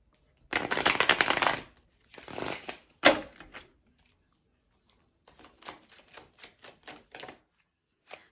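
Star Power Tarot cards riffle in a loud shuffle, then a second, shorter burst, followed by a string of soft taps and slides as cards are drawn and laid down, all without any talking.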